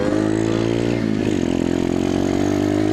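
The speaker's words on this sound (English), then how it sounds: "I'm out here with my boy Brad, who just got his early 1980s fucking Yamaha back up and running." An early 1980s Yamaha YZ80 pit bike with a full race FMF exhaust runs close by, its two-stroke engine droning loud and steady, briefly dipping and rising in revs mid-way.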